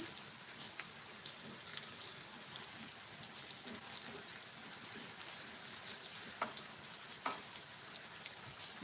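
Spices sautéing in a pan over low heat for nasi liwet make a soft, continuous sizzle with scattered small pops, blending with steady rain outside; no one speaks.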